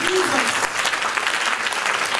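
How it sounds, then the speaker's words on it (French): A church congregation at a French-language worship service applauds and cheers for Jesus, a dense, continuous wash of clapping from a large crowd that fills the room without pause. "Est-ce que tu peux acclamer Jésus"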